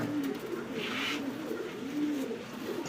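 A pigeon coos close by, two soft low throaty coos rising and falling over a quiet background with a brief brighter chirp between them, and no talking.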